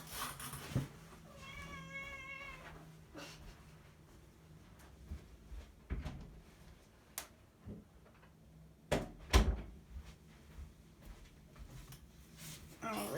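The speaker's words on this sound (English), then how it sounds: "I'm sorry, that is my cat." A cat meows a few times early on behind a closed door, muffled and fairly faint, amid quiet room noise, rustling and sharp knocks or thumps later.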